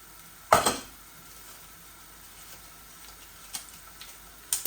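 Two or three bay leaves drop into hot oil in a home kitchen, giving a sharp sizzling burst, then a faint steady fry with a few soft clicks of utensils, no voices.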